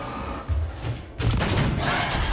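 Shotgun blasts in the sci-fi horror game Alien Isolation: a heavy boom followed by a second louder blast with rumbling reverberant tail, close and forceful.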